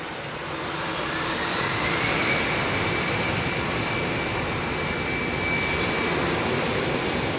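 A jet airliner powered by CFM56 engines passes close at Heathrow, a loud sustained turbine roar with a faint whine running through it, rising over the first second and then holding steady, with no voices.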